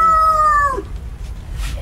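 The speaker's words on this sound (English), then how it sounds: "There's a rooster." A rooster crows loudly and close by outdoors during a wild animal ride, one long harmonic call that falls away at the end, followed by quiet background noise and a faint distant sound.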